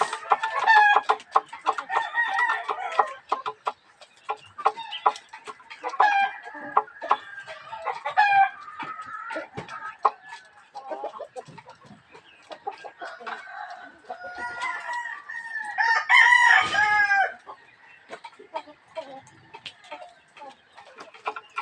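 Pet chickens on a home yard at midday after feeding, hens clucking steadily and roosters crowing repeatedly, near and fairly loud, with a brief louder crowing burst toward the end.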